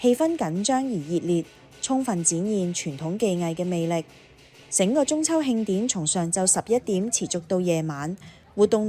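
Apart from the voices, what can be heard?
No distinct noise like a dog, phone or traffic.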